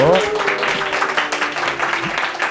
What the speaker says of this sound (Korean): 수고했다고. 박수로.